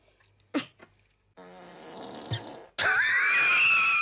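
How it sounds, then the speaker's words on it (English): A fart sound effect played back from a phone or video, heard as a short blurt followed by a longer buzzing, droning stretch that swells loudly toward the end, with no talking. "that fart was so disrespectful and caught me off guard"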